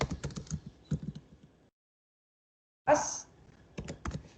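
Fingers type code on a computer keyboard while writing an HTML form, a quick run of close, crisp key clicks. The typing stops in a silent pause, then resumes with a sharp burst and more scattered taps.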